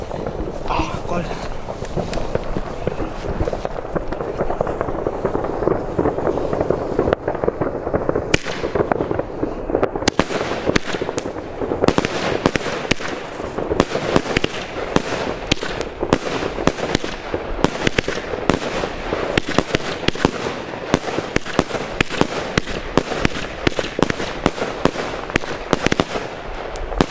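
A fan of two Blackboxx Schwarze Witwe cakes and one Hypnotika fires rapid, repeated shots, a dense stream of loud cracks and bangs under wind noise, with voices talking over the display.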